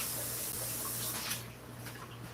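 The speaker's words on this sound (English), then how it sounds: "I'm going to rinse out this cup here." Tap water running into a sink as a cup is rinsed out, a steady close splash that thins out halfway through, with no talking.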